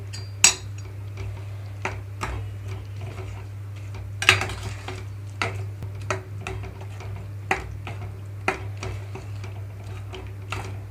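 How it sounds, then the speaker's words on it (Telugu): A spoon repeatedly clinks and scrapes against a metal pan in irregular taps while stirring tomato chutney, over a steady low hum, with no talking. "తాలింపు అంతా బాగా కలిసేలాగా కలుపుకోవాలి ఈ చట్నీ"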